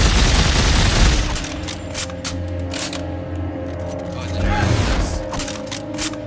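A customized weapon firing in Dead Space 3, a loud burst of rapid gunfire up front with further sharp shots and mechanical clatter over a steady game hum, a voice speaking in between.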